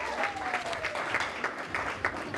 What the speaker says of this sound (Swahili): mnisaidie kwa makofi